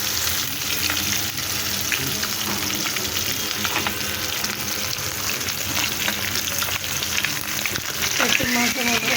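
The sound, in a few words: tilapia fish frying in oil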